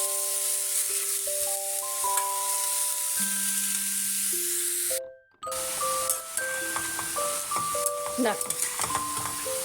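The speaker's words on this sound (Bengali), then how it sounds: "একটু নাড়াচাড়া করে নিয়েছি মশলাটা যাতে একটু ভাজা হয়ে যায়" Spices with radhuni and ginger paste fry in a pan for bottle gourd shukto with milk, giving off a steady hiss under stirring. Chiming background music plays over it, and a voice briefly speaks.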